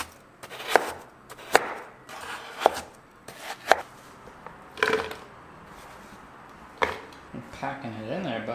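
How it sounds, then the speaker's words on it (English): Frozen bananas are chopped for a Nutribullet smoothie, about seven sharp, close knife strikes on a board at irregular intervals, with a little handling noise between them. "the key when you are using the Nutribullet is to chop up the bananas"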